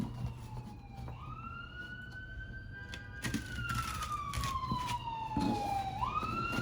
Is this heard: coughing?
no